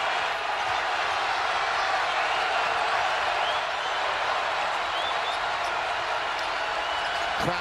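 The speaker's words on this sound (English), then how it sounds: "Crowd rises again." A basketball arena crowd at a Wake Forest at West Virginia college game roars and applauds in a steady wash of cheering noise, with a sneaker squeak and a faint bounce near the end.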